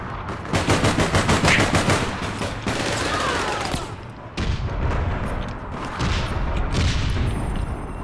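Rapid bursts of automatic gunfire from an N-TEC 5 rifle with an Adeen stock in the online shooter APB: Reloaded, loud and close, firing in long sustained strings with only brief pauses.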